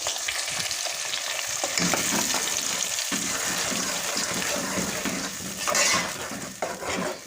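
Steady, loud sizzling of onion, tomato and green chilli paste frying in a hot pan, with occasional stirring scrapes and a brief louder spatter near the end.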